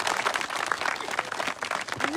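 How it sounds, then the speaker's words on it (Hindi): Rally crowd in Kalota village giving loud applause to welcome candidate Engineer Dharmpal Gurjar, a dense burst of outdoor clapping with scattered voices mixed in. "धर्मपाल जी जोरदार तालियों से स्वागत करें"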